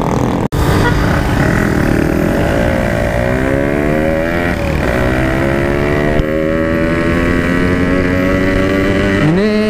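A Yamaha RX King 161 two-stroke motorcycle riding through city traffic, its raspy engine climbing in pitch through several gear changes, loud and close, with a sharp knock near the start.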